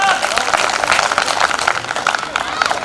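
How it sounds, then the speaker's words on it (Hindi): Audience applause at the 2019 Singrauli kavi sammelan, a Hindi poetry gathering, greeting poet Kunwar Javed: a dense, steady wash of many hands clapping that fills the whole stretch, with voices mixed into the crowd noise. "जोरदार तालियां।"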